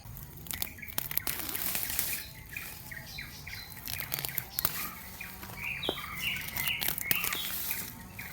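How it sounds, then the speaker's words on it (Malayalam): Birds chirp and tweet repeatedly around a farm plot, short bright calls overlapping at moderate distance with faint rustling beneath and no talk. "കിളികളുടെ ഒച്ച കേട്ടോ"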